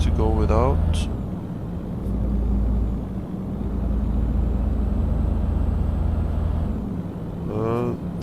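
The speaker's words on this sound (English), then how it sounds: "This truck sounds very powerful." A DAF truck engine in Euro Truck Simulator 2 on the road between Innsbruck and Salzburg gives a deep, continuous rumbling drone, steady and close, with brief voices at the start and end.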